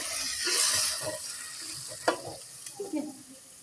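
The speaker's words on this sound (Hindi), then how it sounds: "अब हम चला देते हैं प्याज।" Onions go into a pan of ground coriander and are stirred, with a steady frying hiss and several sharp scraping knocks of the spoon against the pan near the end, close and fairly loud.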